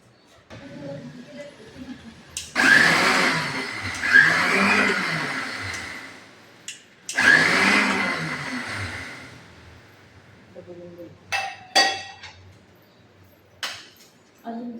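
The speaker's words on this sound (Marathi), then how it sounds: "ही कोथिंबीर आता आपण हे सगळं मिक्सरमध्ये काढू।" A kitchen mixer grinder whirs in two loud bursts of a few seconds each, grinding moong dal with cumin and coriander for vadas, separated by quieter pauses with brief clatter.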